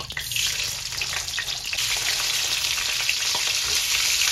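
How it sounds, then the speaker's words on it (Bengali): Crabs rubbed with salt and turmeric fry in hot oil in a pan, a loud, dense, continuous sizzle with light stirring scrapes and no talking. "কাঁকড়াগুলো ভাজা হয়ে গেছে"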